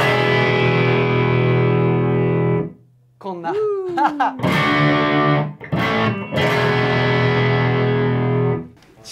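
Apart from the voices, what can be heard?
1961 Gibson Les Paul SG rear humbucker pickup tone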